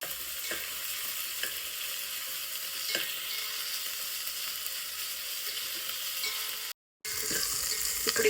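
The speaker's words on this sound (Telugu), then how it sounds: "అలాగే ఒక 2-3 పచ్చిమిర్చి, ఒక 2 రిక్కల కరివేపాకు, అలాగే కొద్దిగా పుదీనా, కొద్దిగా కొత్తిమీర వేసుకొని మంచిగా గోలనివ్వాలి" Green chillies, curry leaves, mint and coriander fry in a pan with a steady close sizzle, punctuated by a few stirring scrapes and a brief cut-out before the hiss returns.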